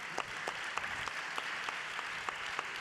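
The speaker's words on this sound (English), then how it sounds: "We can applaud." A crowd claps steadily, with a few sharper individual claps standing out from the fairly loud, even applause.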